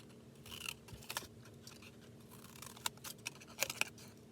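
Paper snips cutting fringe into a paper sheet to make grass for a craft fold, giving a series of short crisp snips in loose, irregular bursts, fairly close and faint, with no talking.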